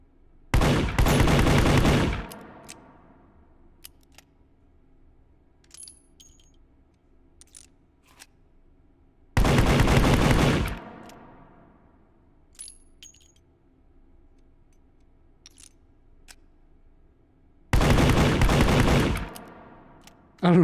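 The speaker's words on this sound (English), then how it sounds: "I don't know why I'm shooting the target this close to distance" Three loud bursts of rapid gunfire at a close-range target in Hot Dogs, Horseshoes & Hand Grenades, each lasting about two seconds and spaced several seconds apart, with quiet pauses and faint clinks between.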